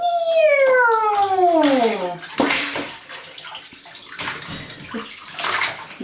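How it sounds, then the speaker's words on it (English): A baby girl splashes bathwater in a filled tub, bursts of sloshing and slapping water following a high squeal, while an adult talks playfully nearby. "You splashing? Splash!"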